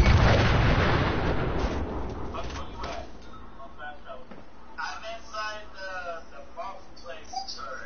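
A nuke weapon fired up into the air in a video game erupts in a loud, deep rumbling blast that fades over a few seconds, followed by lighter crackles and a voice talking.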